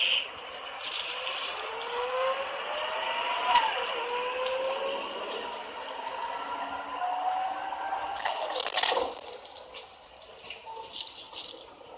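Kanachu bus pulling away, its engine and drivetrain rising in pitch through several whining sweeps as it accelerates, at moderate loudness with some rattles.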